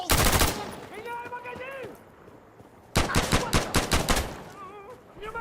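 Weapon fire in the video game Insurgency Sandstorm: one short burst, a pause, then a rapid string of loud shots, with a faint voice in the gaps.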